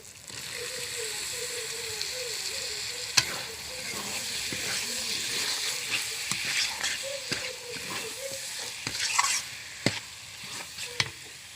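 Boiled potatoes and mushrooms stirred through spiced oil in a pan, a steady sizzle with scraping stir strokes and sharp clinks throughout, close and fairly loud.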